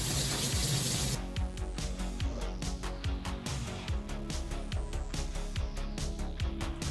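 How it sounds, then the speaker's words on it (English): Tap water pours steadily into a sink while toner is rinsed out of 4c natural hair, a continuous close splashing wash with gurgling and shifting flow throughout. "I'm about to go wash this out of my hair."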